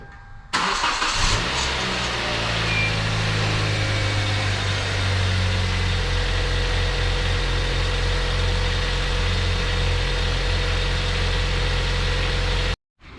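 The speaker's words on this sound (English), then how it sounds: "All right, now let's fire it up." A 2010 Kia Soul with the 2.0 engine cranks and catches after an oil change, then settles into a steady, even idle that runs close and loud before cutting off abruptly near the end.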